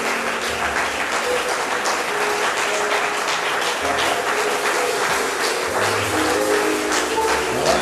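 A congregation at a church service claps in sustained, dense applause, loud and continuous throughout, with a few low sung or spoken voices under the clapping.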